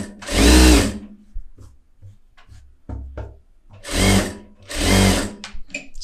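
A tailor's sewing machine runs in three loud bursts while stitching around a fabric piece, with quiet handling clicks and fabric rustle between the runs.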